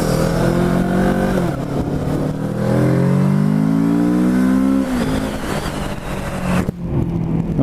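A 2017 Kawasaki Z650 motorcycle engine pulls hard through the revs up toward redline, a loud, smooth, steadily rising drone that drops at each gear change and climbs again, with no talking.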